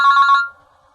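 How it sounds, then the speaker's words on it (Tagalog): A cellphone rings with a short, loud warbling electronic trill lasting about half a second before cutting off into near silence, with no voices. "Ato ti cellphone mo?"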